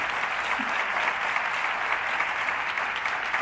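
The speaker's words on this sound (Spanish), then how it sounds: "Eso merece más aplausos que no." Audience applauding at a cultural week concert with live folk music, a dense, loud, sustained wash of clapping from a crowd that continues evenly throughout.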